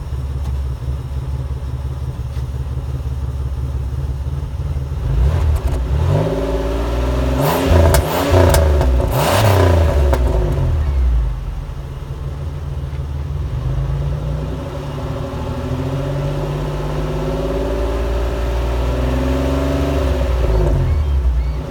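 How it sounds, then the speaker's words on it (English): A 1996 Pontiac Grand Prix SE coupe idles with a steady exhaust rumble. Its engine is revved hard several times in the middle, rising and falling sharply, then it settles back to a smooth idle. The car is close. "let you hear the exhaust"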